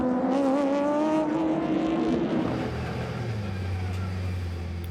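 A race car at the 6 Hours of Fuji endurance race passes close by, its engine whine climbing in pitch before a deeper engine note takes over as it pulls away and fades.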